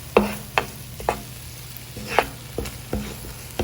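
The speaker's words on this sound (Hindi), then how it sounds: "तकरीबन 2 से 3 टेबल स्पून इसमें ऑयल है, और इसमें मैंने ये लहसुन, क्रश लहसुन और ये हरी मिर्चें ये डाल दी।" Crushed garlic and green chilies frying in two to three tablespoons of oil for Chinese-style chicken Manchurian: a low steady sizzle punctuated by about eight sharp spoon scrapes and knocks against the pan at an uneven rhythm.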